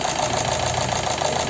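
A Chevrolet Cruze engine idles with a faulty ignition coil, a steady close mechanical hum with a faint uneven knocking pulse running throughout, no voices.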